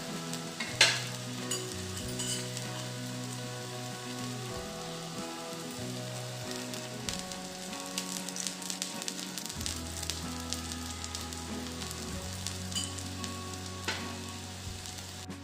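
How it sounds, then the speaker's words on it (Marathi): Feni frying in ghee, second side: a continuous close hiss and crackle of hot fat, even and rain-like, with a low steady hum under it and no talking. "आपण दुसरी बाजू पण तूप टाकून छान भाजून घेऊ."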